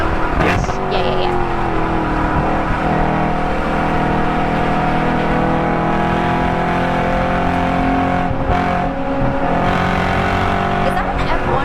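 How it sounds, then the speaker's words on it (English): A Radical single-seat race car passes on the Road Atlanta circuit, its loud engine note sweeping by with revving over a steady background roar, and people talk nearby. "No, that's called a Radical. A Radical? Yep, it is a single seat car."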